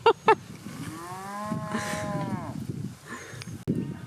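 A voice imitates a cow, giving one long, wavering moo after two short sharp knocks, with background noise underneath.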